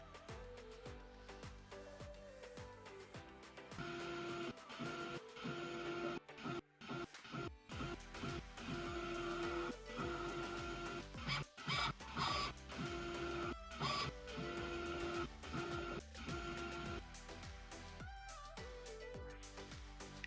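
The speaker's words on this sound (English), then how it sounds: "Let me show you an example of what I mean using the EPCS electric cylinder." A Festo EPCS electric cylinder axis moves between positions along its stroke, giving a continuous motorized whirring with shifting pitched tones and intermittent clicks as it changes speed and stops.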